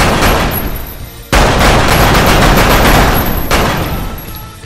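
Loud, rapid gunfire from the VR shooting game Lethal VR, dense bursts of shots running continuously with two abrupt cuts where the firing restarts.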